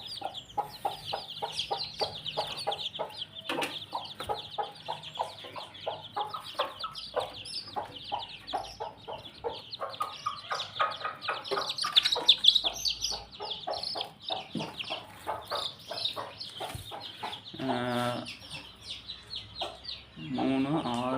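Hens cluck and newly hatched chicks peep continuously around them, a busy mix of soft clucks and high chirps heard close up, with a rooster-like call and occasional louder bursts.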